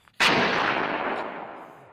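A single loud gunshot goes off in a horror video game, a sharp crack after a brief quiet beat, then a long reverberant tail that fades slowly across the remaining two seconds.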